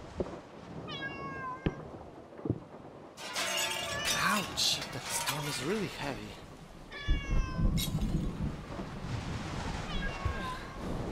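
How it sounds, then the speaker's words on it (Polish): Cat in the video game Rosemary's Fate meowing in a few short rising cries, mixed with game sound effects including a sharp shattering burst and someone talking over parts of it. "Wiecie, z lewej strony słyszę kota."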